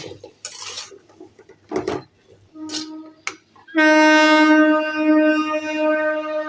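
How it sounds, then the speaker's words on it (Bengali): A passing train near a fifth-floor flat sounds a long, loud, steady horn-like tone that starts midway and holds to the end, after a few clattering kitchen-utensil knocks. "শুনতেই পাচ্ছ ট্রেনের আওয়াজ"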